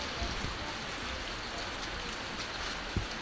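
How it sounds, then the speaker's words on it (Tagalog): Heavy summer rain hissing steadily, a dense, even wash of drops with a few louder patters, fairly quiet, windless and without talk. "Dapat tag-araw ngayon kaso ang lakas ng ulan."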